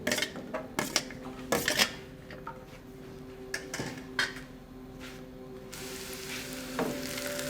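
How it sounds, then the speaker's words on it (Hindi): Chopped onion sizzling in ghee in a pan, a steady frying hiss broken by clattering stirs and utensil knocks against the pan, close and fairly loud with no talk. "अब एक बर्तन में थोड़ा सा घी डालें 1 से 2 चम्मच और इसमें 1 अदद कटा हुआ प्याज शामिल करें और इसको घी में नरम करें।"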